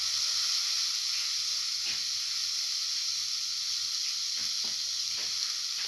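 Tomato pieces hitting a hot frying pan with eggplant and cottage cheese mixture, giving a steady sizzling hiss alongside a few soft scraping knocks, close and alone.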